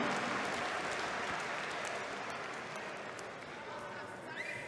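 A darts crowd at a PDC European Tour event in Riesa applauds and cheers, a dense, loud roar of clapping and noise that fades slightly and is broken by a few whistles.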